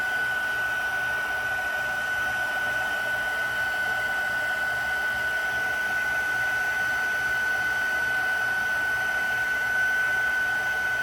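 A heat tool drones in a steady, loud, continuous whine with a sharp tonal hum while it melts gold embossing powder for a Stampin' Up Dutch fold card, with no talk over it.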